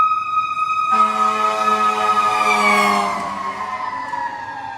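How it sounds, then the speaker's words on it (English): A fire engine passes with its siren wailing loudly and steadily. The siren starts abruptly after about a second, then dips in pitch and fades slightly as the truck moves by, with no voices present. "there's a fire engine coming, so hold on 1 second."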